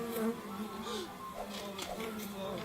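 Insect-like buzzing from bees in a video game, a steady whining drone with a few rising tones, heard under a man's speech.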